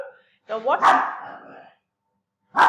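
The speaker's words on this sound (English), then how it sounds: "so my dog's barking" A dog barks indoors at home, a couple of sharp close barks followed by a pause and another bark, with a voice speaking over part of it.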